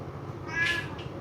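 A single house cat meows once, a short, fairly close call rising over a steady low background hum.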